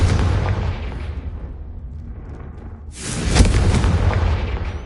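Confringo fire spell in a Hogwarts Legacy-style wizarding video game, a loud booming blast with a roaring rumble that dips, then a second sharp burst and sustained fiery roar, close and continuous.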